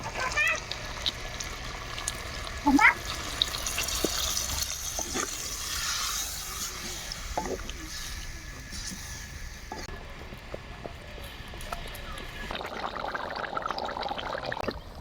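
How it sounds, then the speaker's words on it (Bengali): Water used to rinse a grinding stone is poured into a goat tripe curry cooking in a clay pot. It makes a long, steady splashing gush that runs for several seconds with some background noise. "এরপরে দিব হচ্ছে জল আমরা কিন্তু শিল্পাটা ধোয়া জল দিই"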